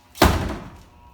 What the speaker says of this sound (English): Door open nice and closes nice